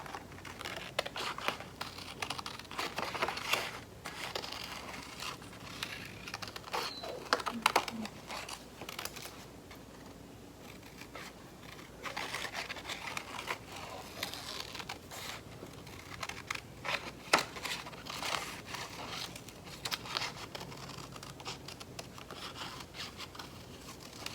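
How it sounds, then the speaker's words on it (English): Scissors snip and crinkle through paper, cutting out a turtle shape in a steady run of small crisp cuts, close by, with occasional rustling between strokes. "My scissors are not cutting the greatest, but try to stay on those lines"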